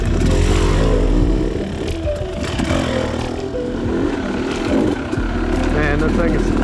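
A KTM-rival motorcycle with a lightly increased flywheel weight is ridden, its engine droning and revving steadily up close throughout, with wind and mechanical clatter and a voice talking over it.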